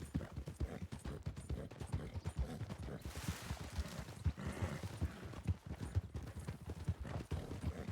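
Horse hooves clip-clopping in the online western role-play game RedM, a steady, close hoof rhythm on open ground that carries throughout with no speech.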